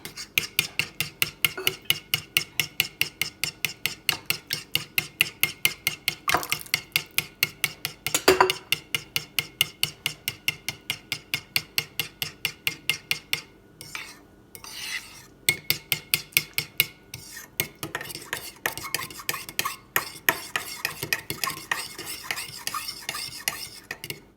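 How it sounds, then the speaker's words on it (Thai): Dipping sauce ingredients for sukiyaki being stirred steadily in a bowl, a fast, regular scraping-and-clinking rhythm of utensil against the container that runs almost without pause, briefly slowing near the middle before resuming, with no voices. "ช่วงนี้ต้องคนเยอะ"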